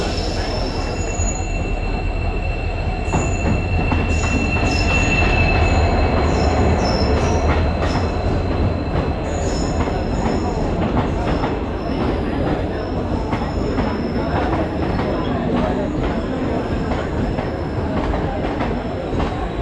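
A train runs through Dadar station, close and loud, with continuous wheel rumble, rhythmic clacking and a high squeal of wheels on rails lasting throughout.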